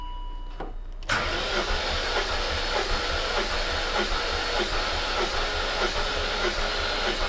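A supercharged BMW E39 M5 with the S62 V8 cranks on the starter during a compression test with the plugs out, a sudden start into steady, rhythmic whirring pulses, loud and close, after a short quiet lead-in.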